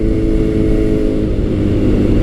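A Kawasaki Z900 motorcycle engine drones loud and steady while riding, a dense low rumble holding an even pitch with no clear shift or rev change.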